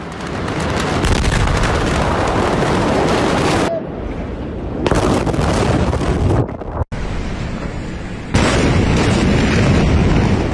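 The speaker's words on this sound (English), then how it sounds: "An explosion so powerful, shockwaves were reportedly felt clear across the Mediterranean in Cyprus" A massive explosion in August 2020, its shockwaves felt as far as Cyprus, roars through as a sustained, broadband rumble with wind-like buffeting, breaking off and resurging in loud waves.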